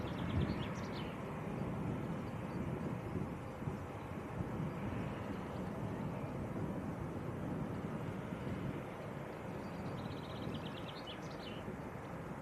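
A Ryanair airliner departs Leeds Bradford Airport for Paris Beauvais, heard as a steady, broad engine roar that holds for the whole stretch under gusts of wind noise, with faint bird chirps and no voices.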